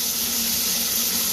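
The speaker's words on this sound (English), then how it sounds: "We watched the toilet flush in that line." Toilet flush water rushing through a drain line, a steady hissing wash of running water heard close and continuous, with no voices.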